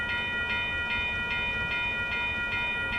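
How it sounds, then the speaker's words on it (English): At the 98th Avenue railroad crossing in Oakland, California, a crossing bell dings in a steady, rapid rhythm over the continuous low rumble of a passing freight train, with no voices. "Another freight train is coming behind me."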